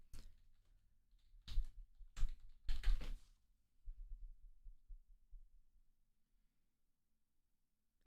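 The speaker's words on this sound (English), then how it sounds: "I'm typing with 1 finger." Slow one-finger typing on a computer keyboard: a few isolated clacking bursts and short clusters of key taps, close and fairly loud, separated by silence, then faint low thumps trailing off.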